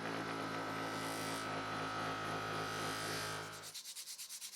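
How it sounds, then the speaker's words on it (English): Steady abrasive rubbing as 120 grit sandpaper scuffs the tang of a forged 80CrV2 steel kitchen knife, with a low hum underneath, ending in a run of quick, rhythmic back-and-forth strokes. "I like to scuff up the surface of the tang with 120 grit sandpaper before gluing up the handle."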